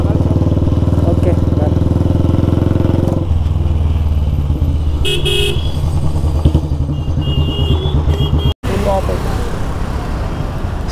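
Royal Enfield Bullet motorcycle engine running loud and close, with a deep thumping rumble that softens after a few seconds and a brief cutout near the end, under some voices.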